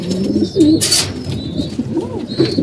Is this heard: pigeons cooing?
yes